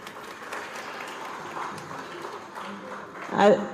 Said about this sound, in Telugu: మీ అందరికీ క్లాప్స్